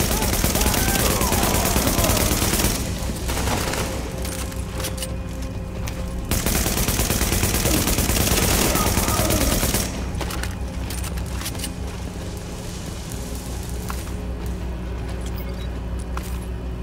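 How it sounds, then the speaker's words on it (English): Dense, sustained gunfire from a firefight in the video game The Division, set in Manhattan: rapid automatic bursts and overlapping shots rattle continuously at steady loudness, with a brief lull partway through before the shooting surges again. "That shooting, that was you, right?"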